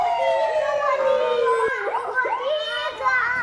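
A fire engine siren sound effect played for children in a sound-guessing game, a steady rising-and-falling wail that runs the whole stretch loudly, with children's and an adult's voices chiming in over it.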